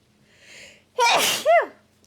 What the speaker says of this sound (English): Did not get a chance to mute before that sneeze escaped me.